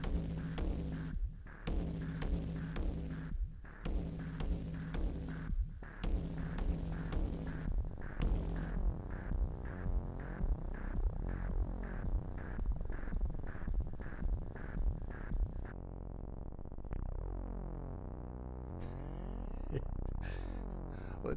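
Distorted, throbbing synthesizer tones from the iOS app BEEF pulse in a heavy, rhythmic pattern, choppy at first, then a denser wobbling drone with a brief dropout near the end.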